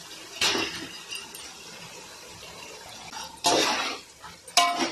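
Marinated prawns going into a pan for prawn biryani, with a few close bursts of wet clattering and clinking as they are tipped in and stirred, separated by quieter stretches.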